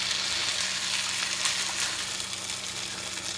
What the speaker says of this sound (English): So we're going to put it all in here, and we're going to stir it around.